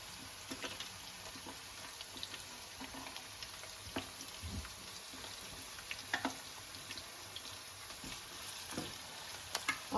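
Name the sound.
onions frying in hot oil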